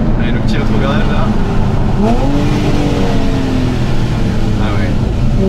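A Porsche 911 Carrera GTS engine blips and drops through a downshift, revs rising and falling in quick steps, heard loud from inside the car with a voice talking over it.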